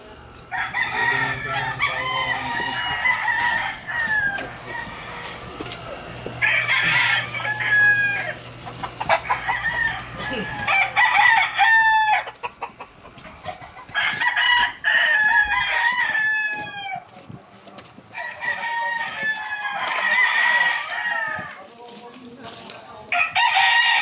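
Roosters at a chicken farm crowing repeatedly in overlapping bursts, loud and close, with hens clucking between the calls and a busy barnyard background.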